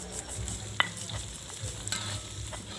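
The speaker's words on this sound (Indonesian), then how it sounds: "ini bumbunya diulek" Indonesian spices, coriander and pepper, ground by hand in a stone mortar (ulekan) for village-style jackfruit curry, giving soft rhythmic scraping and knocking with one sharper clack, close and steady, no talking.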